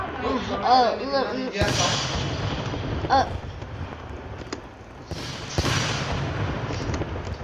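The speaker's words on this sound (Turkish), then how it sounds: "niye patlamıyor? Patlat." A blast in the Roblox game Ragdoll Engine, set off in a minefield: a sudden broadband burst at about 1.6 s, then a second one near 5.6 s, over steady game noise and background music.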